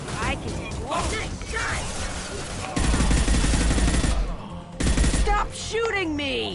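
Gunfire in the shooter Mass Effect 2, with bursts of rapid automatic fire loud and close, a sharp pause, then another burst, while voices talk over parts of it.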